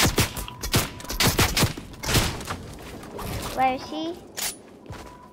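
Rapid gunfire bursts from a multiplayer shooter video game, loud, sharp cracks clustered in the first half followed by scattered shots, mixed with a brief spoken question and electronic effect tones.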